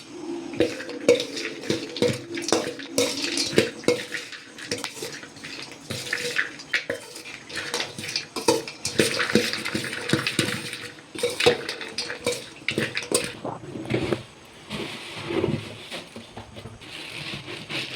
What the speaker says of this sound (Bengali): এখন আমি এটা ভালো করে একটু মিশিয়ে নিচ্ছি